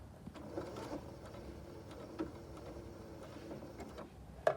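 A sewing machine using a button foot runs a few lock stitches on a button: a soft, quiet mechanical ticking and whirring hum with occasional light clicks, close but faint.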